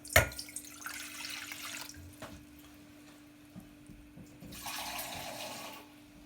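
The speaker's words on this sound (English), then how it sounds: "pour some cold water into the pot." Cold water runs and splashes into a pot in two bursts, close and moderately loud, with a quieter gap of handling noise between them.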